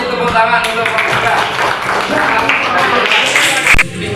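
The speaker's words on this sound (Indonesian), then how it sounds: "kasih tepuk tangan untuk mereka" A classroom group receives applause after presenting, with dense, busy clapping at close range mixed with voices and chatter throughout.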